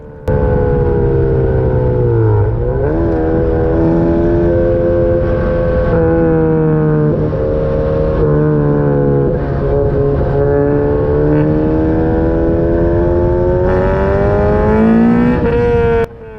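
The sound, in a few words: Ariel Atom sports car engine accelerating on race track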